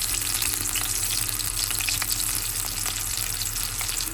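Sliced onion and curry leaves fry hard in hot oil for a chicken fry curry, making a loud, dense and unbroken sizzle close up.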